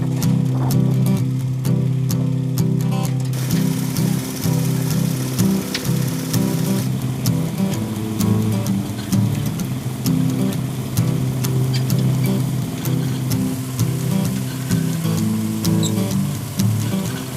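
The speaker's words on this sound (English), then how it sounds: "we just shovel them in the one end and that washer takes care of them then from then on" A ginseng root washer tumbles freshly dug roots in a loud, continuous mechanical drone and rumble with a steady splashing, churning wash running throughout.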